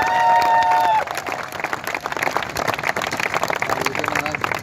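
A crowd at a kavi sammelan poetry night bursts into applause, with broad, rapid clapping and scattered cheers that follow a raised voice at the start and go on until the end.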